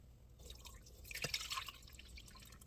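Fermented chicken feed liquid is poured through a screen strainer, giving a soft, faint trickle and dripping splash that swells briefly in the middle, close and quiet.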